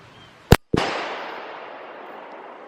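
A single sharp, loud rifle shot from a 7mm Remington Magnum fired at a 3/8-inch AR-500 steel target about 60 yards away, followed almost at once by a second crack and a long, fading outdoor echo.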